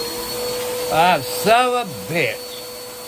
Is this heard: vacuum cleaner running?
yes